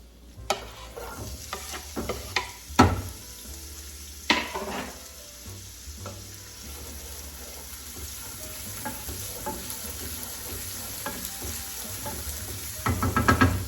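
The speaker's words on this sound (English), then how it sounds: "add a little bit more extra virgin olive oil to the pan. Get my wooden spoon. And then we're gonna add our onions." Chopped white onions sizzle in extra virgin olive oil in a pan, with a steady frying hiss and occasional clacks and scrapes of a wooden spoon stirring, close and fairly quiet.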